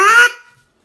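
A single short, raspy honk from a duck call with a wood barrel and polymer insert, loud and close, lasting about a quarter second before cutting off into silence.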